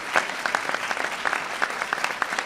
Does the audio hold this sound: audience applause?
yes